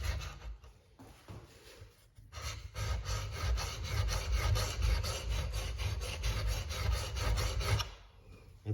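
A wood chisel is being sharpened on a sharpening stone: a steady, continuous rasping scrape repeated in close strokes for several seconds, with brief pauses at the start and end.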